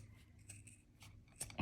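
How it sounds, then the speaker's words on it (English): Scissors snip through earring fringe in a few quiet, sharp clicks, close and faint, with a slightly louder cut near the end. "and then you'll just take a pair of scissors"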